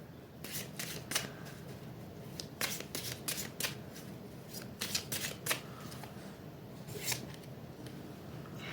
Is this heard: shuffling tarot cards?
yes